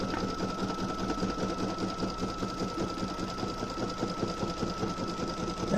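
A Brother Stellaire embroidery machine sews a zigzag satin stitch with a fast, steady mechanical chatter and rhythmic needle knocking, loud and continuous throughout.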